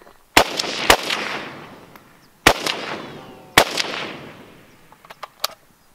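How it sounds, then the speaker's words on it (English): A rifle fires 7.62 rounds outdoors toward a hill, giving three sharp, loud cracks spaced a second or more apart, each followed by a rolling echo, then a few fainter pops near the end. "Let me just shoot a couple rounds over there."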